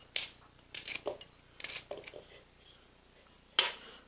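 Okra pods being cut into half-inch slices with a knife, a handful of sharp, crisp snaps and chops spaced irregularly, close and fairly quiet with no talk.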